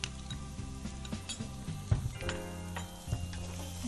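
Finely chopped onion sautéing in a pan, a soft steady sizzle with faint ticks and light knocks of stirring, quiet and close with no talking.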